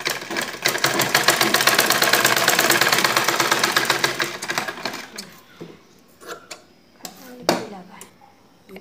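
Electric sewing machine running fast and steady as it stitches a fabric strip onto a square-neck maxi dress, a loud continuous whir for several seconds that stops, followed by scattered soft handling clicks and rustles of cloth.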